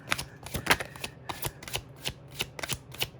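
Tarot cards are shuffled in a steady series of crisp riffling bursts, about ten quick flutters in a regular rhythm, close and fairly quiet, with no voices.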